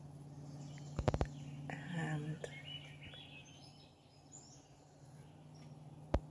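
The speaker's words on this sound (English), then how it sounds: "listening to the natural sounds of the birds" Faint morning bird chirps and tweets drift in the distance against a quiet outdoor background, with a person speaking briefly nearby.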